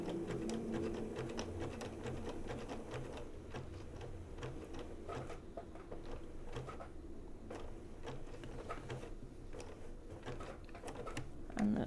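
A sewing machine stitches steadily around a curve on a quilted fabric leaf for a small table topper, its rapid needle chatter running evenly and close throughout with no talking.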